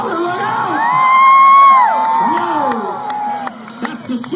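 Crowd at a motocross show at Myrtle Beach Speedway cheering and whooping in a swelling roar, with high shouts rising and falling and voices mixed in, loud and close.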